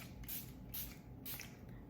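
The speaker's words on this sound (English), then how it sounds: "This is my Charlotte Tilbury Airbrush Flawless Filter setting spray." Three quick bursts of Charlotte Tilbury Airbrush Flawless Filter setting spray hiss from a pump bottle close by, evenly spaced with brief quiet gaps, in a quiet room.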